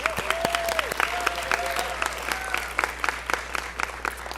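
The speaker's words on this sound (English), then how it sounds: "So could we give them a round of applause?" A graduation ceremony audience applauds with dense, steady clapping from many hands in a large room. Scattered cheers and a few voices rise above it, with a low hum underneath.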